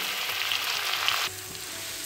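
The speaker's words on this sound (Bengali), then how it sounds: "ম্যারিনেট করা গোবিন্দভোগ চাল ঘিয়ের ওপর দিয়ে দেব।" Marinated Gobindobhog rice fries in hot ghee for pulao, a close, bright sizzle that drops to a softer crackle partway through, with no voices.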